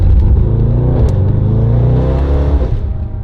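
A car engine revs hard and loud close by, a steady throaty roar with rising harmonics that holds for about three seconds before easing slightly at the end.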